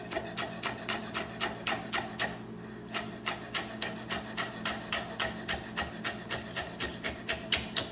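Knife slicing Swiss chard stems thinly on a bias, a steady rhythm of about two to three crisp cuts per second against a cutting board, close up, with a brief pause partway through.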